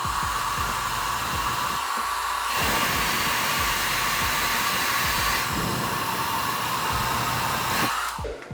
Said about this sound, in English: I'm pushing my tails down into my beard using the heat and hitting the cold button.